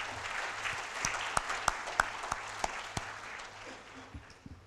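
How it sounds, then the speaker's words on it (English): Conference audience applauding, a steady spread of clapping with a few sharper distinct claps near the front, moderately quiet and fading toward the end. "So give them all a round of applause"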